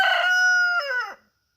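A rooster crows loud and close on a homestead, one full cock-a-doodle-doo that rises, holds, then breaks and fades into silence.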